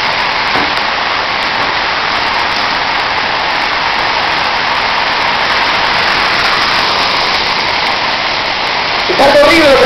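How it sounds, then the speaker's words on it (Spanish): Heavy rain pours steadily during a violent storm in Olancho, Honduras, a loud continuous hiss of downpour lasting the whole stretch, with a brief extra noise near the end. "Llueve bastante fuerte, los vientos, Dios mío."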